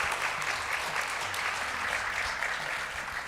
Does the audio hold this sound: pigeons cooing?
no